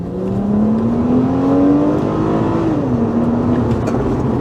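A V6 Honda Accord engine revs up smoothly, pitch rising steadily, then dips briefly and climbs again, heard from inside the car.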